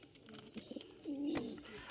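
Pigeons in a loft in Kolkata give soft, low, rolling coos, with one longer coo rising clearly in the middle of a short stretch of quiet background.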